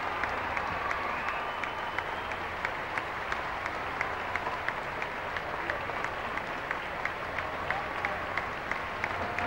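A large crowd of about 2,400 faithful applauds and cheers steadily as the Pope arrives and waves, dense continuous clapping with faint voices mixed in.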